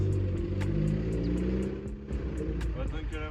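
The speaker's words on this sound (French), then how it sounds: "On va attendre que la voiture passe" A car passes on a road in the Pyrenees near Ustaritz, a steady engine rumble close by with a slight dip and swell as it goes past.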